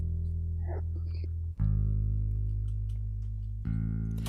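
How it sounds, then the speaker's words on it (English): Dry, unamplified electric bass tones from an Ample Bass P Precision Bass plugin, with sustained low notes ringing out and new notes struck partway through and again near the end. "This is the Ample Bass P Precision Bass Guitar plugin."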